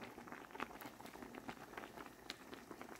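Pasta boils in a pot of water with a splash of oil, a soft, steady bubbling and pattering that stays faint and close with no voices over it.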